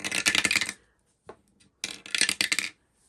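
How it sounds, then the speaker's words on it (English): Dice clatter down through a dice tower in two bursts of rapid plastic rattling and clicking, separated by a near-silent gap holding one small tap. "So I've got a few dices here, and I love the sound that it makes."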